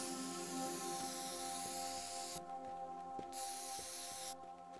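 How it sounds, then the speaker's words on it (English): A spray can hisses in the game Teardown, a faint, steady spray sound broken by two brief gaps, heard over a quiet bed of tonal game background. "I haven't done any spray canning"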